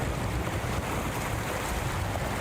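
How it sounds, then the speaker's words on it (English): Big ocean waves at a flooded seaside cove by a boardwalk in blustery weather, a steady loud roar of surf mixed with wind rumbling against the microphone, with no talking. "watching the big waves in blustery conditions"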